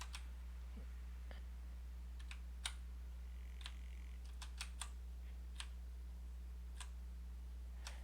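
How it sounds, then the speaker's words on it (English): Sparse clicks of arrow keys being pressed on a computer keyboard, single and in short quick runs, faint and close over a steady low electrical hum. "I'm pressing arrow keys."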